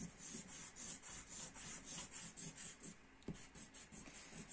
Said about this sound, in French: on peut se permettre de gommer les traits dont on n'avait plus besoin